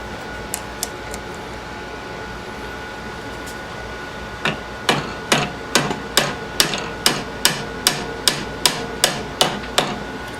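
A hammer strikes metal with sharp, ringing blows while bending a part during a hydraulic pump rebuild: a few scattered hits, then a steady run of about a dozen evenly spaced strikes, close and loud.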